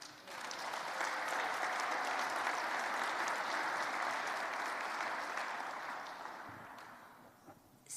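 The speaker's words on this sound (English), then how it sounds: "I want to thank all of you for giving me the applause" Sustained audience applause greets Treasurer Goldberg at an outdoor Gold Star Families tree lighting hosted by the governor, steady and fairly distant for several seconds before tapering off near the end.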